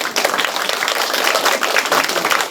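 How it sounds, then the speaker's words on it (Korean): Audience applause at a book launch event for a social studies textbook: dense, loud, steady clapping from a large crowd, sustained throughout with no break. "박수 한번 쳐주세요"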